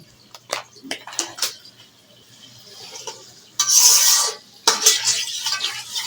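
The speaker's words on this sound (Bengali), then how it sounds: "এখন আমি মশলাটাকে ভালো করে কষিয়ে নিব।" Metal scraping and stirring in a pan of spices with whisked yogurt, a little water and salt, with a loud hiss of frying bursting in partway through, followed by continued clattering stirs.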